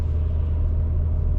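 Street traffic rumbles steadily on a side street in Switzerland, a low, continuous drone of engines with no distinct passes or voices.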